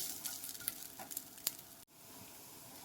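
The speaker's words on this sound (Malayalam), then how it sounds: "നാളികേരം ഒറ്റയ്ക്ക് വറുത്തെടുക്കണം, അതായത് മറ്റൊന്നും കൂട്ടാതെ വറുത്തെടുക്കണം." Grated coconut dry-roasting alone in a pan for a Kerala theeyal, a soft steady sizzle with occasional scraping stirs, quiet and close, ending in a brief cut to a calmer sizzle.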